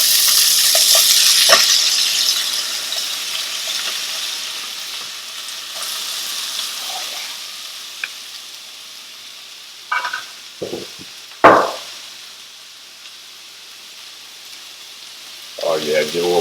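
Chicken sausage sizzles and spits steadily in a hot pan, with a few clinks and scrapes of a utensil and a louder clatter near the end.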